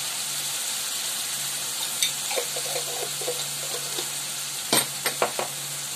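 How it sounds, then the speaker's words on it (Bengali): Rohu fish in a spiced yogurt curry sizzles steadily in a pan, with light stirring scrapes and a few sharper clacks of a spoon against the metal near the end. "3-4 মিনিট ধরে এটাকে ভালো করে কষাতে হবে।"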